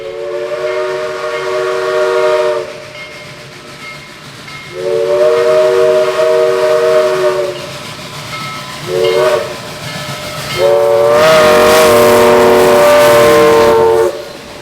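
Southern Railway steam locomotive No. 4501's deep chime whistle sounds in several long blasts, loud and close, over the chuffing and rumble of the passing train near Chattanooga.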